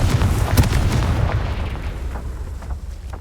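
Confringo fire spell blasts in Hogwarts Legacy, a loud booming explosion with a burst near the start, then a rumbling roar and crackle that slowly dies away, with no talk.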